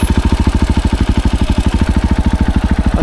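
A motorcycle engine idles up close, a loud, steady low thumping pulse with regular firing beats and a light mechanical clatter on top.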